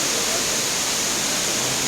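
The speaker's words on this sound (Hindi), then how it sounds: "देखिए झरना कितना प्यारा सा ऊपर से चला आ रहा है" Indoor waterfall at Dubai Mall, a steady dense rush of falling water that fills the space evenly and loudly from start to end, with no talking over it.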